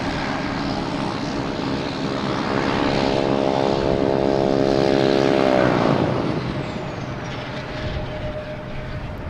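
Air Canada airliner arriving from Montreal at Boston Logan Airport, its engine whine and roar swelling as it passes close, then a high descending tone as the noise fades away.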